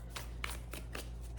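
Tarot cards shuffled by hand, four quick riffling bursts in an even rhythm, close and crisp over a low steady background hum, with no talking.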